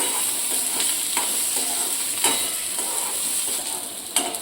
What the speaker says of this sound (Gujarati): એને પણ આપણે થોડીક વાર સાતરવાનું છે, 2 મિનિટ માટે